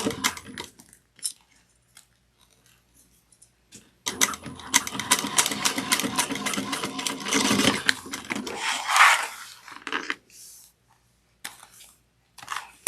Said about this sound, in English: And I'm going to back stitch and take my time.